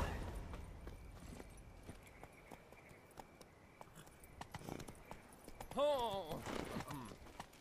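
Horse hooves clip-clop at a steady walking rhythm in The Witcher 3: Wild Hunt, close and moderately loud, ending in a short whinny, while a voice speaks briefly.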